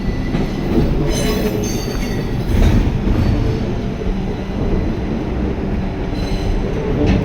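A Vande Bharat express train rumbles steadily past at close range, with a continuous roar of wheels on rails and occasional metallic squeals.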